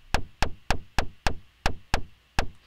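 Knock-like percussion from an Ableton drum rack with a swing groove applied, sharp close hits repeating in a slightly uneven, shuffled pattern for under three seconds.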